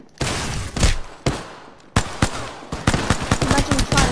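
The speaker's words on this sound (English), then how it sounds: "I'm taking fire." Gunfire in the video game Apex Legends, sharp close shots arriving in separate bursts that build into a dense rattling volley near the end, fairly loud with no talk over it.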